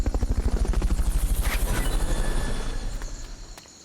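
Fulton recovery helicopter in the video game Metal Gear Solid: Peace Walker, a loud rapid rotor thump beating steadily and fading slightly toward the end, with no voices.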